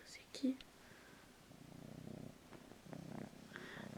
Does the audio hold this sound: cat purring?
yes